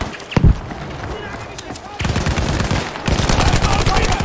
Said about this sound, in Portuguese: Cuidado, cuidado, tô escutando tiro aqui.